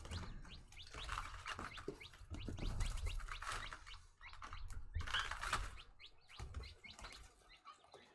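One-month-old chicks and hens being integrated into a flock flap their wings in repeated bursts, close by, with scattered chirps and rustling between the flurries and no talking.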